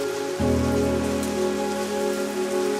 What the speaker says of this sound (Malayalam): മഴയല്ലേ?